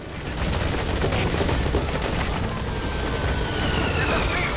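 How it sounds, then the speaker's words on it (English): A helicopter in the video game Metal Gear Solid V: The Phantom Pain roars loudly and continuously, its rotor noise dense and close and mixed with bursts of gunfire during combat. "So we'll call the helicopter back to our landing zone."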